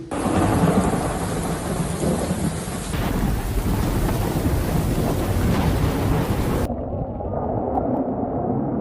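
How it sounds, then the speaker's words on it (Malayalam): Heavy rain pours down in Jeddah, Saudi Arabia, during a thunderstorm: a loud, dense roar of rainfall and rumbling thunder with wind buffeting, broken by abrupt cuts between shots. "ജിദ്ദയിലും മക്കയിലും സമീപകാലത്തൊന്നുമില്ലാത്ത മഴയാണ് പെയ്തത്"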